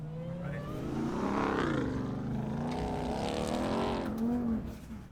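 A 777 hp 2027 RAM TRX truck engine accelerating hard on an off-road course, its loud revving pitch climbing and dipping with throttle changes, close and continuous.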